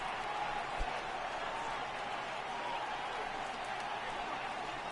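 A restless baseball stadium crowd from MLB The Show 18 murmurs and buzzes in a steady, moderately loud wash, with a faint thump early on and no clear speech.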